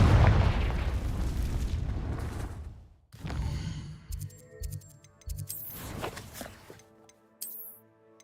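Confringo fire spell explosions in Hogwarts Legacy: a loud, sustained fiery roar gives way after a brief drop to a series of booming bursts and crackling magical hits, with some tonal game effects.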